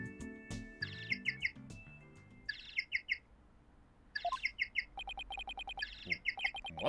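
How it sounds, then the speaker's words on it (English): A cute, bird-like phone ringtone from Ace Attorney Dual Destinies plays in bright chirping bursts, repeating in short tweeting phrases over soft game music, clear and close. "That's my ringtone."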